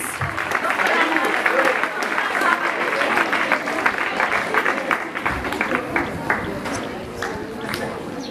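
Sustained applause from a large crowd at a secondary school graduation, dense and steady for several seconds, with a voice briefly audible beneath the clapping.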